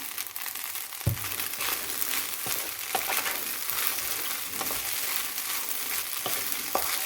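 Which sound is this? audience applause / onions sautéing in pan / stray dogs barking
onions sautéing in pan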